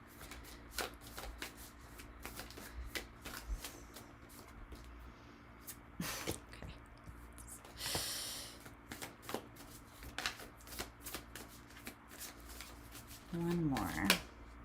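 Tarot cards are shuffled and drawn in quick, crisp riffling bursts and soft flicks, close but quiet, with pauses between. A brief voice sounds near the end.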